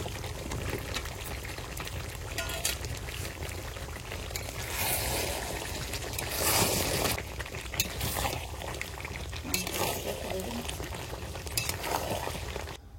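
Meat curry cooking in oil in a pot, village-style: a steady sizzle and bubbling fry with occasional stirring scrapes, close and continuous, no talk.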